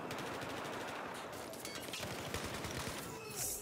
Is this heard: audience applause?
no